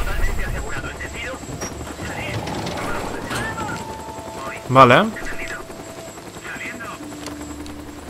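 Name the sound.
helicopter flying overhead in video game Days Gone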